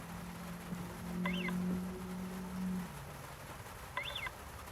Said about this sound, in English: So it's just a little bird chirp every time to make it sound real natural.